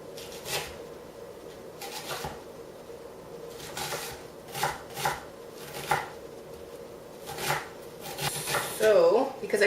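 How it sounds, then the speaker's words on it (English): A knife chops a third of an onion into small pieces on a board for guacamole, giving irregular, close, sharp strikes over faint room noise. "I'm just going to chop that up into quite small pieces."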